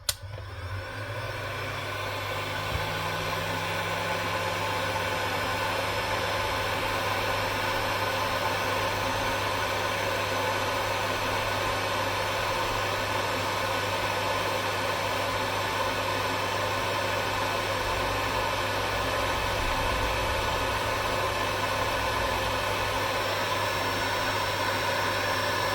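A Makita heat gun switches on and keeps running, a steady loud blowing whoosh with an even fan hum that continues unchanged and alone for a long stretch.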